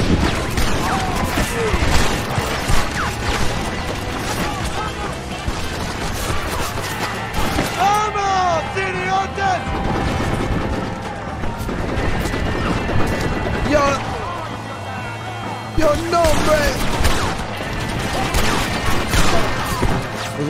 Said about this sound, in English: it's so dark I can't even see where the machine gun is